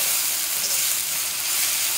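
Onions salted with a pinch of salt fry in a pan for a lentil curry, giving a steady, dense hiss of sizzling oil that holds loud and even throughout, with no voices.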